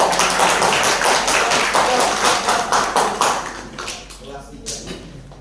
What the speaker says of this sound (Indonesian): Semuanya kasih tepuk tangan.